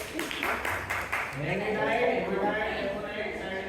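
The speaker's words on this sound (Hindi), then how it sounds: "ताली बजाओ भाई इसके लिए।" Students in a Class 12 geography class clapping, a brief run of several quick claps near the start, then talk carries on in the room.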